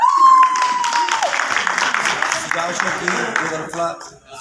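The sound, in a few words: audience applause for stage drama performers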